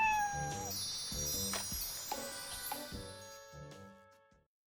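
Several short cat meows from the video game Like A Dragon: Ishin!, close and clear over a soft musical background, spaced irregularly before fading out.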